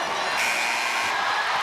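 Crowd applause and cheering from the stands at a women's college basketball game, a steady, dense roar of clapping and whoops that swells briefly, filling the arena without a break.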